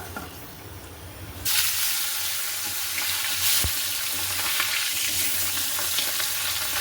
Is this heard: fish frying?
yes